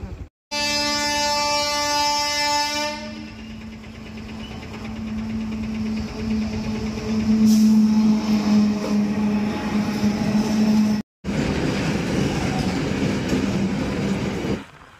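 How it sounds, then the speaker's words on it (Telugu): A train passes a closed railway crossing gate: a loud horn blast opens, then a long rumbling, clattering run of wagons dominates close by, briefly cut off near the end before the rolling noise resumes. "ఇంకో 5 కిలోమీటర్స్ దూరంలో ఉందనగా గేట్ పడింది. ట్రైన్ కోసం వెయిటింగ్."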